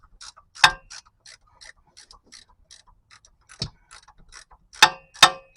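Bolts are loosened during a 5.3 engine and transmission removal with a ratchet that clicks steadily. Several louder metallic clanks break up the ticking, all close by with no talking.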